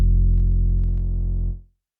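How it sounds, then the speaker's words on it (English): A deep, booming 808 kick drum with a gritty, distorted edge, sustaining heavily for about a second and a half before cutting off abruptly. "I think it has a bit of distortion there, or a bit of grit."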